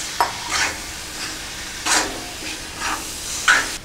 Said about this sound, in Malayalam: ഇനി അതിലേക്ക് നമുക്ക് വേവിച്ച് വെച്ചിരിക്കുന്ന സോയ ഇടാം. സോയയിൽ അല്പം വെള്ളമുണ്ട്, അത് നന്നായി വരട്ടിയെടുക്കുക.